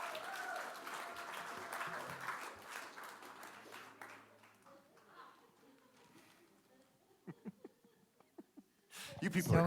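Audience clapping during a Sunday church service, a broad wash of applause that gradually fades away, leaving sparse scattered claps, then a sudden louder burst at the end.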